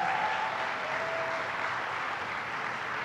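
A crowd at a political announcement in Brooklyn gives a round of applause, a dense, even roar of clapping that runs unbroken at steady volume, with a faint tone drifting behind it.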